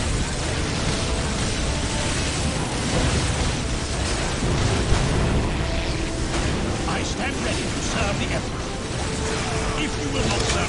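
Artillery guns fire on a battlefield in the Dawn of War Soulstorm strategy game: dense, continuous rumbling blasts and mechanical clatter with scattered pops, and game voices come and go beneath.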